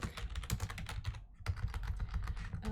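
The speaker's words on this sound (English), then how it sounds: "Except I can't type correctly because I moved my keyboard." Fingers clatter rapidly on a computer keyboard in a steady, close stream of keystrokes, with a brief pause near the middle before the typing resumes.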